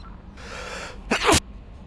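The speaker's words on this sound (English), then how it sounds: "I was fighting off that sneeze" A single loud sneeze bursts out after a brief intake of breath, close to the microphone, with a quiet room behind it.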